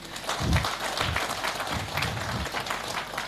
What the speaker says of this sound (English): you get to clap for everybody